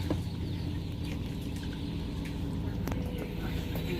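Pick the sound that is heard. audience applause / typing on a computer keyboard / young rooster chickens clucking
young rooster chickens clucking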